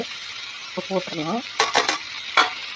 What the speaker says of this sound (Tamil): இப்போ நல்லா ஹை ஃப்ளேமில் வச்சு டீப்பாக ஃப்ரை பண்ண வச்சுக்கோங்களேன்